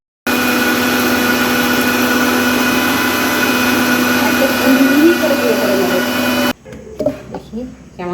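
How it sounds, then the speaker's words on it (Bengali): A kitchen mixer grinder pulverizing roasted makhana (fox nuts) into powder: a loud, steady motor whine runs for about six seconds, then cuts off abruptly, leaving quieter clattering and handling noises. "তারপর এটাকে গুঁড়ো করে নেবো মিক্সিতে।"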